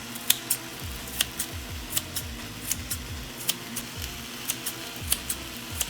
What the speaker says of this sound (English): Now let's test out these herb scissors here.